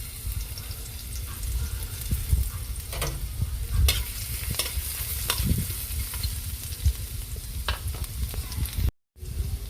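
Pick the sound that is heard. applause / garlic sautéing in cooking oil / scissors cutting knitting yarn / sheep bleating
garlic sautéing in cooking oil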